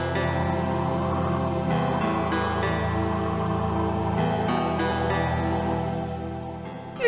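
Day 2 intro music from the game People Still Live Here, a pretty, steady melodic tune with sustained tones that plays alone at moderate level and fades near the end.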